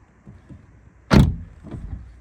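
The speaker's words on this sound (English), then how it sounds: "Let's close these doors up." Doors of a BMW 335i Gran Turismo are shut: one solid, loud thud near the middle, followed by a softer second thump, with a few faint clicks beforehand in an otherwise quiet setting.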